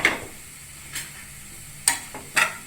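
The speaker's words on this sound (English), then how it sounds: "mixing the vegetables properly so that all the masalas get coated all over the vegetables and the paneer" A spoon stirring vegetables and paneer with masala for Italian pasta, a low sizzle under a few separate scraping clicks spaced irregularly, close and fairly quiet.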